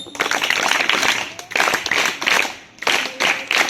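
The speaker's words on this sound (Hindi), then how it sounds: "इसके लिए सब बच्चे 9 तालियां बजाएंगे।" Children in a classroom clap together in repeated bursts, several short rounds of sharp hand claps separated by brief pauses, fairly close and loud during a Hindi Day lesson.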